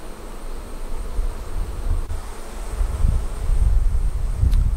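Honey bees swarm and feed on honey at a Flow Hive outdoors, giving a steady low buzzing hum mixed with wind rustle that grows slightly louder toward the end, with no voices.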